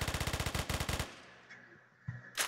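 Rapid automatic gunfire in a Roblox shooting game, a loud rhythmic stream of evenly spaced shots for about a second, then a fading tail and a couple of isolated sharp reports near the end.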